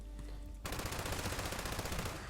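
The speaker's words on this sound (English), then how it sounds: "You can't hear that at all, especially when it's going full auto." An MG42 machine gun fires full auto in a video game, opening abruptly after a short quiet lead-in and continuing as a loud, dense, rapid stream of shots.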